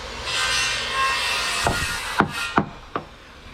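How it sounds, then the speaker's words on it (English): A power saw whines steadily through wood in the background during porch construction, followed by several sharp knocks and clunks near the end. "can hear him in the background making some beautiful cuts"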